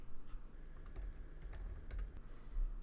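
Steady typing on a computer keyboard while entering text for a fall porch sign on a Cricut Maker 3, rapid soft clicks at close range over faint room hiss, with no voices.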